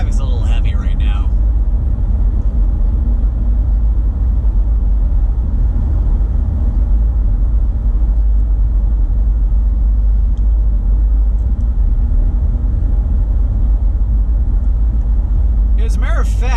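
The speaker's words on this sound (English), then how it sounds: "Plus, yeah, traffic's a little heavy right now." A car driving west on the I-376 highway in heavy traffic, with a steady loud rumble of engine and road noise heard from inside the cabin. Brief bits of sound stand out at the start and end.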